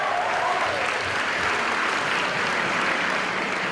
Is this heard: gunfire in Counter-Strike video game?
no